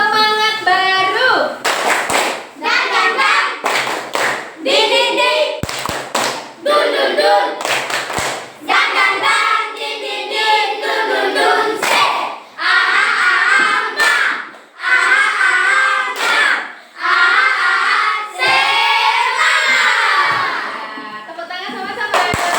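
A classroom of fourth-grade children claps in a rhythmic chant together, sharp bursts of hand claps alternating with loud shouted voices in a lively, repeating pattern.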